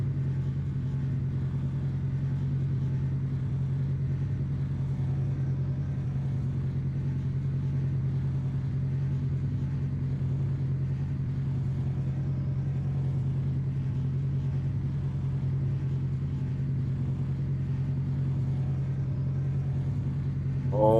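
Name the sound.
racing car engines in a video game, Targa Florio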